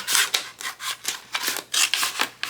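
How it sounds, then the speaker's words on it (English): Scissors repeatedly snipping and slicing through transfer tape pulled off a roll for a craft project, a brisk series of close crisp cuts and rustles with no talking. "I'm going to go ahead and cut some off of my"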